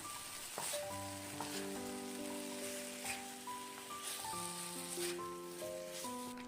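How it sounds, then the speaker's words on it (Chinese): Fried steamed bun slices with sesame seeds sizzle in a wok during stir-frying, a soft, steady crackle like light rain with occasional scraping stirs, while gentle background music plays throughout. "继续给它翻炒均匀。"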